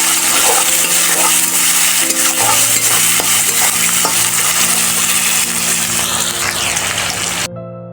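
Thin-cut potato slices frying in hot oil in a pan for a fish curry, giving a loud, steady, dense sizzle throughout with occasional stirring scrapes. The sizzle drops sharply right at the end. No one speaks.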